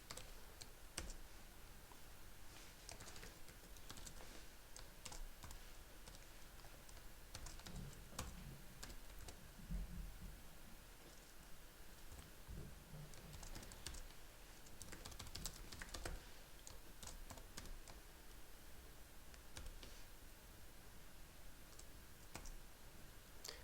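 HTML code being typed on a computer keyboard, with steady, quiet key clicks and occasional irregular bursts and pauses, close and without speech.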